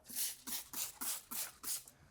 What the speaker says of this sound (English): I'll just give this a spray and leave it for a few hours